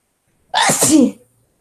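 A single loud sneeze bursts out close to the microphone, sharp at the start and trailing off quickly into silence.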